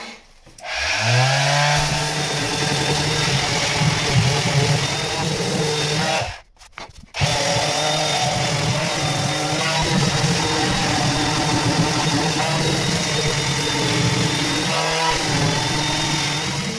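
Power grinder sanding and fairing the underside of a boat deck, a loud continuous abrasive whir with rubbing texture that cuts out briefly partway through, then resumes steadily to the end.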